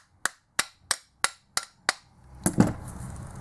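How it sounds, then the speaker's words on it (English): Six evenly spaced, sharp metallic taps strike the front bracket of a Mitsubishi alternator to split its housing, followed by a brief scraping rattle as the parts shift. "you give the front bracket a few taps"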